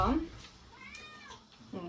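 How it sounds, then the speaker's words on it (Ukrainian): Gray domestic cat gives a drawn-out meow in a home kitchen during cucumber canning, heard between bits of nearby talking. "Котик прийшов кушать"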